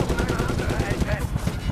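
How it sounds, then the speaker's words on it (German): A mounted machine gun fires in the war shooter Medal of Honor (2010), a dense continuous stream of rapid shots with a faint voice underneath. "Aber ich mag MG-Geschütze, die nicht überhitzen können."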